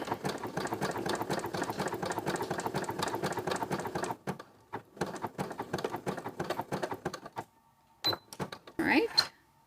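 A sewing machine runs in fast, even bursts while basting a ruffle with long stitches, a close mechanical whirring that stops and restarts several times, ending in short scraping handling noises.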